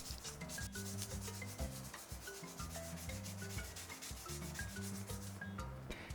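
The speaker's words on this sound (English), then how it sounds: "keep on sanding until it's nice and smooth" Wet sandpaper rubs against a carved stone turtle in steady, repeated back-and-forth strokes, a soft scratchy rasp that sits under background music.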